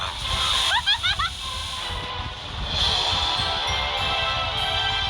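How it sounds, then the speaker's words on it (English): Waves splashing in a cookie-themed mobile video game, short watery splashes and sloshing heard at moderate level among quick electronic game chirps, with a faint hiss and no talking. "Watch out for the waves!"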